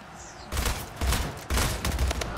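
Bursts of gunfire in the Splitgate arena shooter, three loud volleys of rapid shots separated by brief pauses, with no talking over them.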